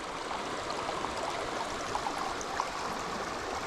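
Continuous rushing river water, a steady broadband flow with small splashes and gurgles, close by and unbroken.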